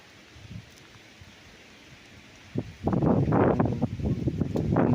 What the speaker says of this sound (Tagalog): Maganda ang panahon ngayon, kaso lang mahangin.